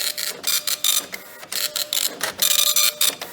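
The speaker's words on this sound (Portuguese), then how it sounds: "Era uma impressora matricial antiga." An old dot matrix printer prints in loud, rapid bursts of buzzing, rattling print-head strokes with short pauses between lines, repeating steadily and close up, with no voices.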